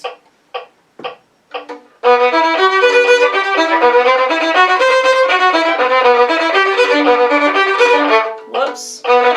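Violin second part from Dvořák's New World Symphony played at a fast tempo, a bright run of quick bowed notes that begins after a few short plucked or tapped sounds and continues steadily and loudly to the end.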